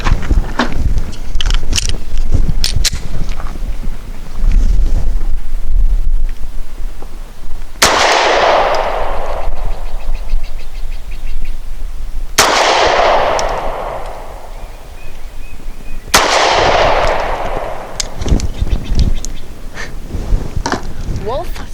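Springfield XDe 9mm pistol firing Blazer aluminum 115 grain ammunition outdoors at a target: three loud, sharp shots spaced several seconds apart, each ringing out with a decaying echo over steady wind and background noise.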